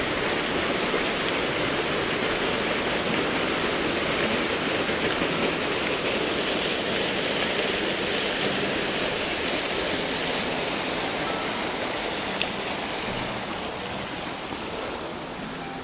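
The Blaydon Burn stream flows in a steady, loud, broadband rush of running water, continuous and unbroken throughout with no voices.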